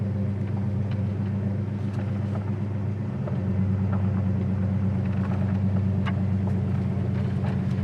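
A 1970 Chevelle's V8 engine rumbles steadily while the car drives, a loud, continuous low drone with a rhythmic pulsing throb close by and no talking over it.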